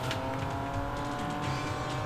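Racing car engine in a Sega Super Scaler arcade game on the FM Towns computer, a steady high-pitched droning whine with shifting tones as gears change, loud and unbroken.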